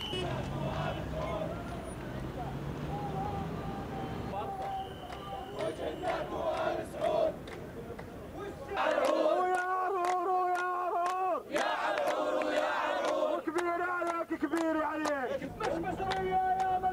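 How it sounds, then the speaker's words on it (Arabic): A crowd at a rally with Syrian and Jordanian flags chanting slogans in unison, rhythmic shouted phrases rising in loud bursts, with a news narrator speaking over the opening part. "رفع المشاركون فيه الأعلام الوطنية السورية والأردنية ورددوا هتافات تحيي صمود سوريا قيادة وشعبا وجيشا"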